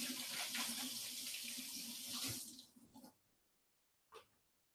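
Tap water runs steadily into a sink as fresh cilantro is rinsed, a loud broadband rush lasting a couple of seconds before it cuts off, followed by a brief faint clatter.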